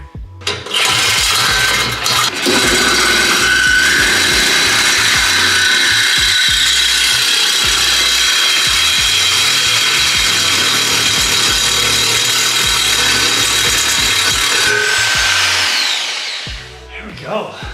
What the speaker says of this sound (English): Reciprocating saw right there. Take the back part of the old pipes out